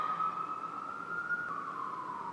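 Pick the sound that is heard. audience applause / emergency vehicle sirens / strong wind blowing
emergency vehicle sirens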